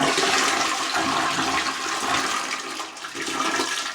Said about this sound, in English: let's flush the toilet